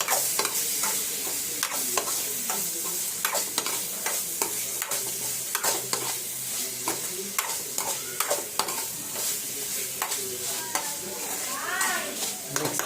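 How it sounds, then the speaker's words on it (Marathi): Prawns sizzle steadily in a hot pan while a spatula scrapes and stirs them in a quick, irregular rhythm, loud and close with no talking. "कोळंबी टाकलेली आहे आता त्याला मस्त मिक्स करून घ्या"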